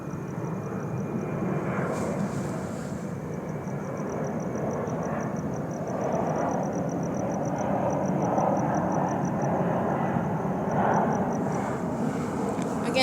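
A plane passes overhead at night above a gas station parking lot on Euclid Avenue, a steady distant engine drone under a person's voice, with a faint high pulsing tone running through most of it.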